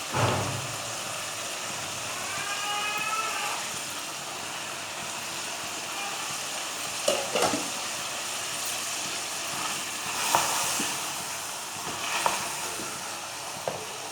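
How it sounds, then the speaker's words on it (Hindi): Lentils frying in a pan with steady sizzling hiss throughout, broken by a few scraping clicks as the dal is stirred, mid-close and fairly quiet. "अब इसे थोड़ा सा हिला लें, भून लें थोड़ा सा।"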